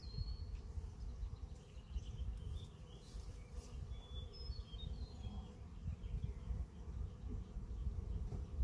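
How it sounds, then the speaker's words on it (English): A dense, low hum of many bees buzzing continuously around a hive, fairly quiet, with faint chirps above the drone. "you can see a lot more bees are flying around"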